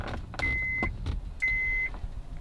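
A 2011 Honda Accord's ignition is switched on with its original key, giving two sustained electronic beeps about a second apart over low car-cabin noise and faint clicks.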